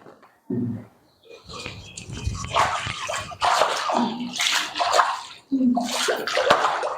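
Floodwater after heavy rain flows into village houses with a continuous rushing, sloshing wash, while voices are heard talking over it.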